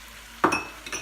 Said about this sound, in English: I'm going to go ahead and dump in the garlic